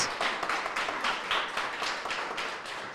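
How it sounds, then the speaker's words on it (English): An audience at a women's networking event applauds, a steady, moderately distant patter of many hands clapping in a rhythmic wash with no speech over it. "I'd like to really applaud these women"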